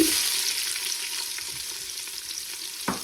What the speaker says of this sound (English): And in go the onions.